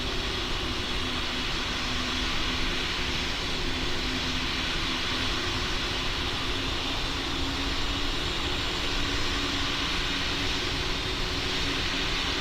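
A steady, unbroken engine roar from an airplane taking off in the Roblox flight simulator Pilot Training Flight Simulator, loud and constant with no talking over it.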